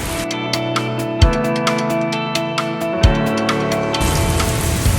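Rain falls at Schloss Britz, with close, irregular drops tapping on a surface over a steady wash, and a few louder knocks standing out.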